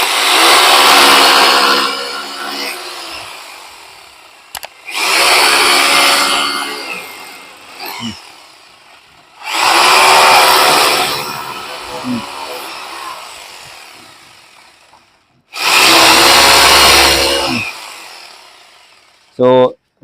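A power drill whines loudly in four separate bursts of a few seconds each, drilling into the ground for solar structure anchors, with quiet pauses between them and a brief clunk at the end.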